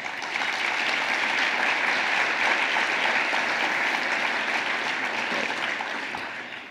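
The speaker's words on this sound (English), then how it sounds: "if we could give a round of applause to the governor and our elected officials" A conference audience applauds the governor and elected officials: a steady, dense wash of clapping that holds for several seconds and then tapers off, with no talking over it.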